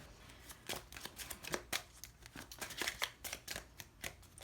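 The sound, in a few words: shuffling a deck of Kipper cards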